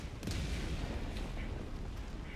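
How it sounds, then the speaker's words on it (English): Orbital barrage pounding the ground in Helldivers 2, a dense continuous roar of overlapping distant explosions and booms, loud and rumbling throughout with a few sharper cracks early on. "orbital barrage"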